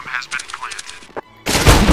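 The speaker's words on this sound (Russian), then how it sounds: "Стреляй, похуй! Стреляй, оно пробьёт!" CS:GO gunfire: a loud, close burst of shots erupts after a stretch of excited shouting voices, ending the moment as sustained firing.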